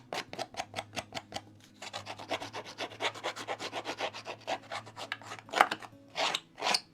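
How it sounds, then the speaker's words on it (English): Repeated rough rasping swipes of an edge distresser along a paper card edge, a quick series of close, dry scraping strokes with no talk. "I'm going to use my edge distresser."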